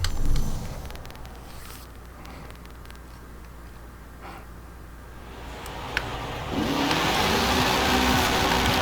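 A Volvo 850R car engine is heard driving, a mid-pitched steady drone that quiets for a few seconds and then swells to a louder, broader roar.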